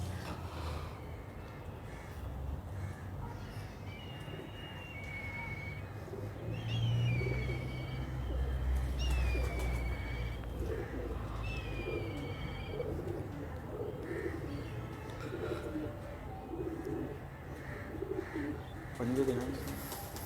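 Shaheen high-flyer pigeons coo softly in a loft in Karachi, several low cooing calls scattered through a quiet background, while a few higher bird calls are heard and someone talks faintly in places.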